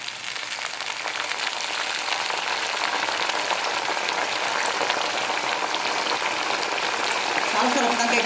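Raw nendran banana slices fry in hot oil for chips, giving a dense, steady bubbling hiss that swells slightly louder toward the end.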